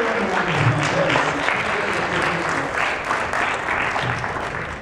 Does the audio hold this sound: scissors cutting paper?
no